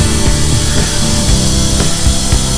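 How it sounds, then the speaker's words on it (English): A small 6-gallon pancake air compressor runs steadily as it pushes air into an 11-gallon external tank, a loud continuous mechanical drone with rhythmic pulsing throughout. "I'm going to send some air through into the tank and let this pressurize"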